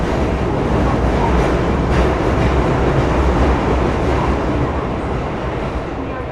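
A Hankyu 8000 series train, set 8020F with Toshiba GTO equipment, runs as a limited express between Shinkaichi and Osaka-Umeda. The recording is a loud, continuous rumble of wheels and motors heard from inside the car, with faint rhythmic clatter.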